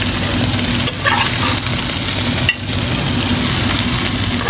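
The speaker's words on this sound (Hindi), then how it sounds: "अब भिंडी को भी हम अच्छे तरीके से इतना फ्राई करना है" Okra fries in ghee in a kadhai with a loud, continuous close sizzle and crackle, dipping briefly twice as it is stirred, with no talking.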